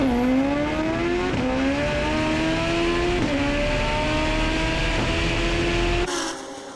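A 2000 Honda Civic drag car making a full-throttle run at a drag strip, its engine screaming loud and high, climbing through several quick gear shifts before abruptly cutting off at the end.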